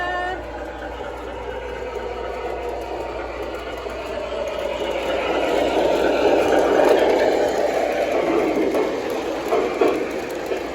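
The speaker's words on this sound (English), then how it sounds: "let me start the train" O gauge model train starting up and running on track in a train store, a mechanical whir and rattle that builds in loudness as it gets going, with a steady high electrical whine above and clicking wheels over the rails.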